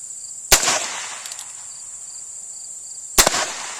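Two sharp, loud gunshots from a Heritage Rough Rider revolver fired at an outdoor range, spaced about two and a half seconds apart, each with a short ringing tail over a steady insect-like hiss.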